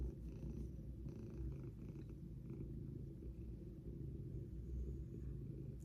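A cat purrs close and steady in a low continuous rumble with a slow, even pulse, alone with no talking.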